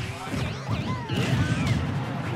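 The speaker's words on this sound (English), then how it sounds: "card explosion managing to force King James off the stage" Card explosion from Villager's item in a Super Smash Bros. doubles match, a sharp blast and crash over busy game effects and music, with a commentator talking throughout.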